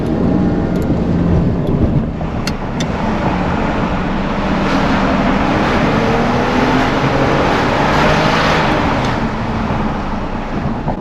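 A Ferrari 575 Maranello F1 engine roaring continuously inside a tunnel, loud and sustained with reverberant echo and no talk.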